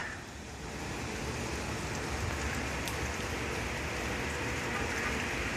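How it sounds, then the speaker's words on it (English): Rain falls steadily in heavy curtains on a partly cloudy, sunny day, making a dense, even hiss of drops on surfaces that holds constant and fairly close throughout, with no voices. "Beautiful, beautiful rain. Coming down in curtains."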